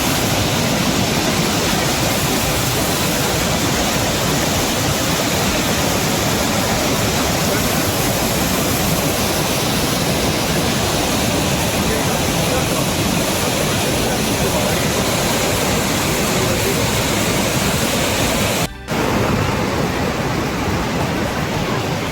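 Heavy water flow from a waterfall or stream roars as a continuous, loud, even rush of broadband noise, close by and unbroken for over twenty seconds, with no talking.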